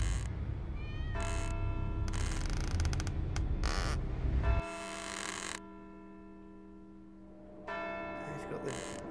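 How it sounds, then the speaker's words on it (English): Creaking rope and string noises on a modded Rainbow Six 3: Raven Shield map, with drawn-out tonal creaks and groans repeating over a low rumble. "It's got the creaky string rope noises."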